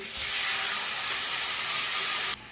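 Water poured into a hot pan of fried small fish with eggplant gives a loud, close, steady hiss that holds for about two seconds, then cuts off abruptly.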